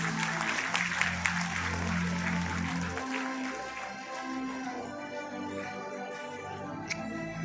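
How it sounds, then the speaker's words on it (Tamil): Applause for the winners of a children's writing competition at a ceremony, a dense crowd clapping steadily and fairly loud throughout, tapering a little toward the end. "ஒரு பெரிய கைத்தட்டல் ஃபார் த வின்னர்ஸ்"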